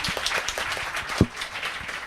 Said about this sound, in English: let's have one final round of applause for all four readers